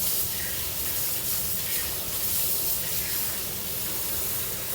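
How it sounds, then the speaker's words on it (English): Cold water runs steadily from a kitchen tap, a constant broadband rush that holds at an even level from start to finish with no pauses. "I'm also going to make sure that I have the cold water running"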